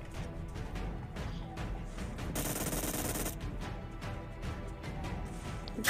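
Rapid automatic fire from an M249 light machine gun in a video game, delivered as fast, repeated bursts at a fairly low level, with one denser, louder stretch in the middle and no talking.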